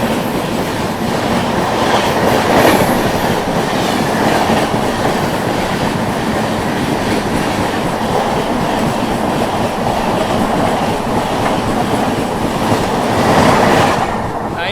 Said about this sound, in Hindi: सामने से आ रही है ट्रेन नंबर 12566 बिहार संपर्क क्रांति एक्सप्रेस, नई दिल्ली दरभंगा